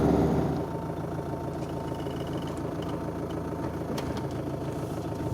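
A diesel vehicle engine idles steadily in the high Andes of Peru, a continuous low rumble with a slightly louder start that settles into an even, nearby drone.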